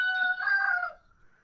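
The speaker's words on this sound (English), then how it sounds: "Who's got the chickens?" A single rooster-like crow, fairly clear and moderately loud, trailing off into quiet after about a second.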